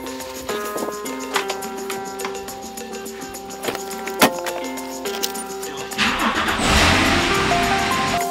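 A Porsche car parked in a workshop area is started up and driven out, with clicks and clunks, an engine firing, then rising revving as it pulls away, fairly close.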